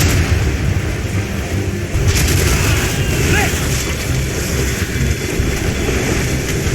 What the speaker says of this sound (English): Keep clear, fire!